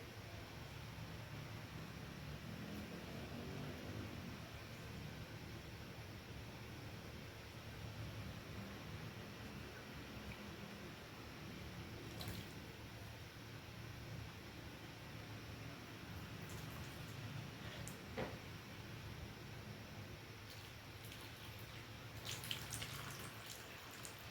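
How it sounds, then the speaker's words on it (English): Warm water runs steadily and softly, wetting someone's hair during a wash, with faint intermittent drips and splashes and no talking. "wet the hair thoroughly with warm water"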